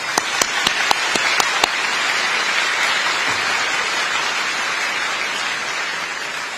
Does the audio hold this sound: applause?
yes